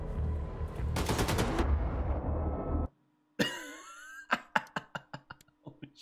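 Rapid bursts of dual-wielded gunfire from Wolfenstein II: The New Colossus, a dense loud fusillade for about three seconds, then after a short gap a string of sharp separate shots with ringing tails.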